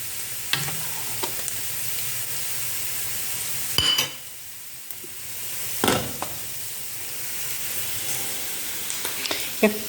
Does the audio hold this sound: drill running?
no